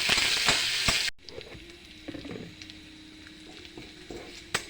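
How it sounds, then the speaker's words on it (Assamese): Green chili and garlic paste frying in a pan while being stirred: a loud sizzle at first, then quieter crackle with scattered spoon clicks and scrapes against the pan. "কেঁচা জলকীয়া আৰু ৰহুন বটা, এতিয়া মই ভাল কৰি লাৰি দিম।"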